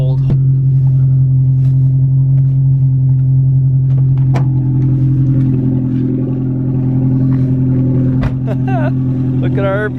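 A cold manual-transmission car engine runs loud and steady with a deep rumbling drone throughout, close by, with brief knocks and faint voices over it.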